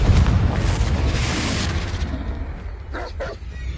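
A Confringo blasting spell from the game Hogwarts Legacy detonating in a deep, loud boom that rolls on and then fades, with a couple of brief sharp cracks near the end.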